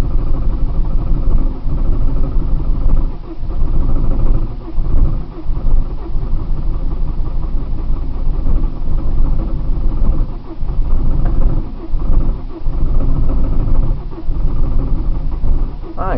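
A car engine on a cold start, cranking and then running with a loud, rough, uneven rumble close by, the level dipping and surging throughout, with no talk.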